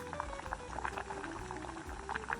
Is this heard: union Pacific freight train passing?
no